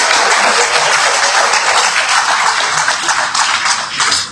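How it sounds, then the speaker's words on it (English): Audience applause at a school-system ceremony in Liberia, sustained, dense clapping from a crowd, steady and loud throughout, tapering slightly at the end. "so clap for him one more time"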